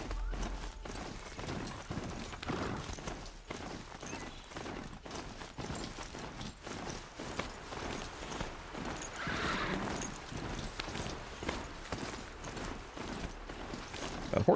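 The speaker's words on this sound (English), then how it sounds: "Horses are like the worst mount in this game." Horse hooves in the video game Horizon Zero Dawn, a steady, rhythmic clip-clop of a mount moving at a walk, close and moderately loud, repeating evenly throughout.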